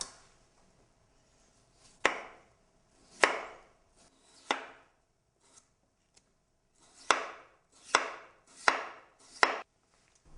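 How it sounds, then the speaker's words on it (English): A knife thinly slicing a peeled, washed and dried raw potato on a cutting board, with sharp, distinct chops spaced irregularly and some quick runs in a row, close and clear with no voices. "I thinly slice a raw potato that I have peeled, washed and dried first"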